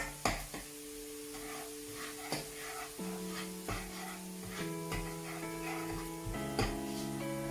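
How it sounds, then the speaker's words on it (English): Garlic frying in a pan as it is stirred: a steady close sizzle with scattered scraping clicks, joined by sustained humming tones that shift pitch a few times. "Allow the garlic to cook until it turns into brownish color."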